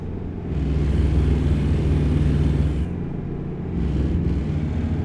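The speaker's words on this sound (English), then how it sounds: "the truck might be a little bit louder than my voice" A Kenworth W900 Legacy Edition truck engine in American Truck Simulator, hauling lumber, a deep steady diesel rumble that swells, dips briefly near the three-second mark, then rumbles on, loud and alone.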